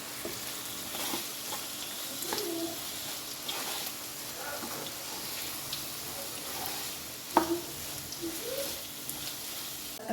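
Snack filling seasoned with pepper, salt, soy sauce and garam masala sizzles in a hot pan while being stirred, giving a continuous close crackle with repeated spatula scrapes and clacks.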